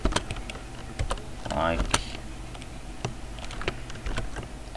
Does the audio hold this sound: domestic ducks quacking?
no